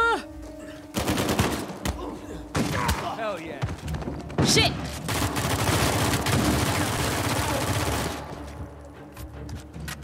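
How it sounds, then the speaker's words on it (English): Rapid bursts of gunfire from the video game Uncharted 4, close-range shooting in a panicked flurry, loud and dense for most of the stretch, with a player exclaiming over it. "That was a lot of shooting at the guy's head in pure panic because he was so close"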